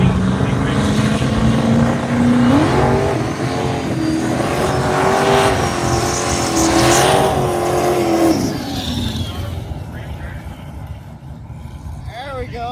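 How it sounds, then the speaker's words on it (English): A drag race car at a Big Sky drag-and-drive event does a big burnout, its engine roaring loud and close with a strained, wavering pitch for about nine seconds before easing off into a lower rumble. "Kelly getting a big old burnout in that thing"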